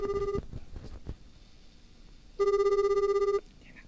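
An outgoing call on a mobile phone set to speakerphone plays a loud, steady ringback tone, a brief burst at the start and then a full one-second ring after a pause of about two seconds.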